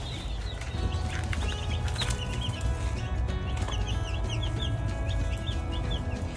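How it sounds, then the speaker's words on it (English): Young broiler chicks cheep and cluck in a continuous busy chorus of short high peeps, close by, over a low steady hum of a brooder or room. "These are broiler chicks that she will be showing."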